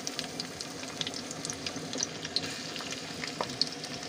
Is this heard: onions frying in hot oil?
yes